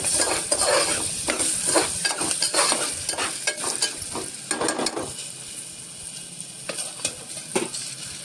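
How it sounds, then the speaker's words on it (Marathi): Oil sizzles steadily as cashews fry in tempering oil while a spoon stirs and scrapes the pan in repeated strokes, the frying hiss continuing throughout. "काजूवर आणि फोडणी जरा परतून घ्यायची"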